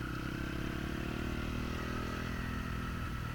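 Honda CRF450R dirt bike engine held at a steady loud roar through a corner, moving from mid throttle toward wide open, with a dense continuous drone and no talking.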